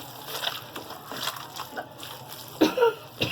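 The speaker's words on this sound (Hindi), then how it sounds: "ये देखें इस तरह हाथ से मैं करूँगी मिक्स, चम्मच से सही तरह मिक्स नहीं होगा।" Chapli kabab mixture with corn flour is worked by hand, giving soft wet squelching and slapping sounds in irregular bursts, with a louder squish near the end.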